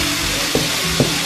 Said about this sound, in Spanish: Seguimos moviendo las verduras para que se vayan haciendo todo.